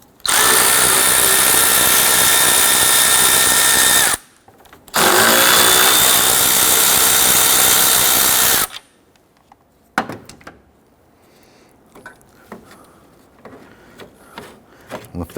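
Power tool loosening and removing the 10mm grille bolts on a 1992-1996 Toyota Camry: two loud sustained bursts of whirring, close by, separated by a short pause, followed by quieter clicks and handling noises.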